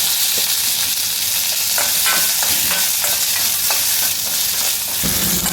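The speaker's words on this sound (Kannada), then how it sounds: "ಇವಾಗ ಈರುಳ್ಳಿ ಎಲ್ಲ ಫ್ರೈ ಮಾಡ್ಕೊಳ್ಳೋಣ ಇದಕ್ಕೂ ಕೂಡ ಆಯಿಲ್ ಹಾಕಿ ಫ್ರೈ ಮಾಡಿ" Onions frying in oil in a pan give a strong, even sizzle broken by repeated clicks and scrapes from stirring.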